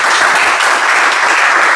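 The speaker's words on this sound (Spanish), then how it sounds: "Vamos a recibir a Jack con un fuerte aplauso." Audience applause welcoming a guest onto a Spanish-language talk show stage, steady broadband clapping filling the whole short stretch at close, loud level with no voices over it.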